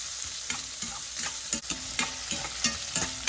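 Chopped onion sautés in a pan with a constant sizzle, broken by regular scraping strokes of a spatula about every half second.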